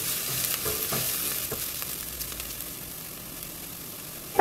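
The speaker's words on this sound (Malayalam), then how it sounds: "അതിലേക്ക് 2 അല്ലി വെളുത്തുള്ളി ചെറുതായിട്ട് അരിഞ്ഞത് ചേർത്ത് കൊടുക്കും. നന്നായിട്ട് ഒന്നും കൂടി മിക്സ് ചെയ്യാം" Finely chopped garlic sizzling in oil in a frying pan for egg fried rice, stirred with repeated scrapes over a steady hiss, close and fairly loud with no talk.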